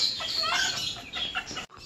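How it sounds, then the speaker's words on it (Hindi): A hen clucking loudly and repeatedly close by, with busy overlapping calls and a brief pause near the end, no talking. "मुर्गी इसकी यहाँ पे शोर कर रही है"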